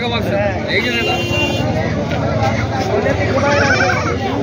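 Native village goats bleating repeatedly at a large Maharashtra sheep and goat market, close and loud amid a dense crowd din, with people talking and a vehicle horn in the background.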